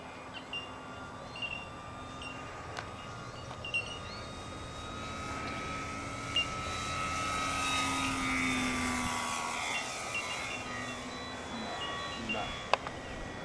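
Dynam F6F Hellcat radio-controlled model plane coming in to land at a model airfield, its electric motor a steady buzzing whine held at moderate distance, slowly swelling and easing, with occasional voices nearby.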